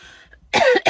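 A person coughs in a short burst of two or three harsh hacks after a near-silent pause, loud and close to the microphone, from someone with a lingering cough and chesty congestion.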